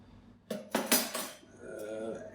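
A spoon clinks and scrapes against a bowl while mixing mustard and smoky paprika into a burger sauce, a few sharp close taps followed by a softer stirring scrape.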